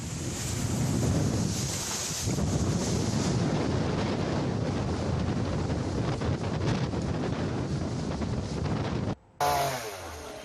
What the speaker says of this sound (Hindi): तेज हवाएं वहां चल रही है।